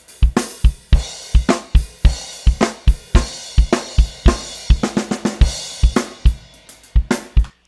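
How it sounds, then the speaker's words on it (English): Full drum kit captured through a close room mic, with a punchy kick and a snare whose hits carry a roomy, reverb-like tail, playing a steady groove loud and alone. "it almost sounds like there's reverb on the snare drum."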